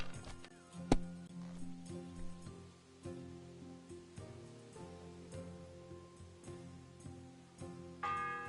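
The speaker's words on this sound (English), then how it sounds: "The sixth bell." A church bell tolls in the medieval video game Kingdom Come, with one sharp strike and ringing tones that fade away, then a softer later chime under background music.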